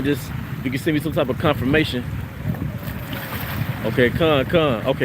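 Strong gusts of outdoor wind beside water buffet the microphone with constant low rumble and hiss, while a person talks on top of it.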